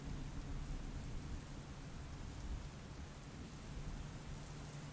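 Rain falls heavily and steadily in a night thunderstorm, a dense even wash of drops with a low rumbling undertone, quiet overall and without voices.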